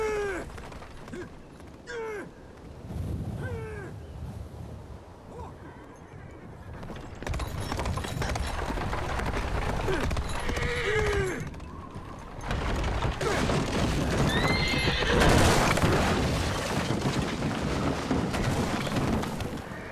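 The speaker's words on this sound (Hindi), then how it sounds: "घोड़ा डर गया है, पकड़े रहना।" A frightened horse whinnies several times over steady clip-clopping hooves in a Chinese warrior action film, the hoofbeats growing louder and busier midway with a dense, rumbling background.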